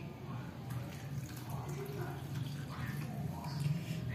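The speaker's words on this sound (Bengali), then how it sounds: "নারকেল কোড়ার মধ্যে গরম জল দিয়ে দেব" Hot water is poured into freshly grated coconut so the coconut milk can be pressed out, a steady close splashing trickle with some watery gurgle, faint voices under it.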